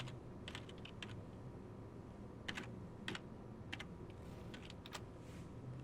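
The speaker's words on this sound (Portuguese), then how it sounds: "eu vou pegar um texto e vou digitar um texto grande" Steady typing on a computer keyboard while entering a long text in Microsoft Word, with rapid key clicks and a few sharper strokes over a constant low background hum, close and moderately quiet, no voices.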